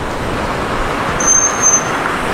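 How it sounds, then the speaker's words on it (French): A truck rumbles past on a busy street in Montreal amid steady traffic roar, with a brief high whine of brakes in the middle. "il y a un camion là"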